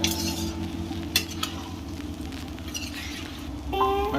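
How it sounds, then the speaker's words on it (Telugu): Chicken curry being stirred in a pan, with a steady low sizzle under scraping strokes and a few light clinks of the spoon against the metal. "అలా తిప్పుతూ ఉండాలి, లేకపోతే అడిగట్టేస్తుంది."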